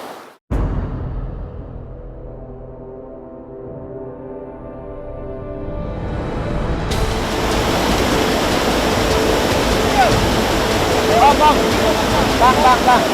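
A flooded river in the Bukit Uram area rushes loudly, a dense, steady roar that builds after a quiet start and holds to the end, with faint voices half-buried under the water.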